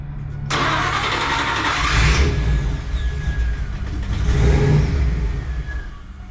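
A 1993 Ford Bronco engine cranks briefly and fires, then settles into a loud, rough running roar that swells twice as the throttle is worked, close to the listener.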